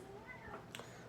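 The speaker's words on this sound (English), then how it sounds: "oh kitty, you're so talkative" A talkative house cat gives one short, fairly quiet meow close by, with near silence around it.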